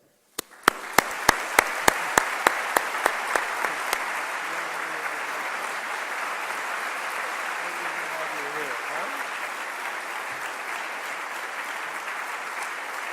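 Audience applause welcoming the speaker at a Catholic education commencement, a few sharp individual claps at first that swell into sustained, loud clapping from a large crowd.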